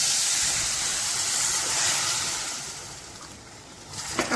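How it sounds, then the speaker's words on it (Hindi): Broad, loud sizzling hiss as a cup of water is poured into hot cooked masala with whole spices in a kadhai while making kadhai paneer, steady and close, easing off toward the end. "अब इसमें 1 कप पानी डालने हैं,"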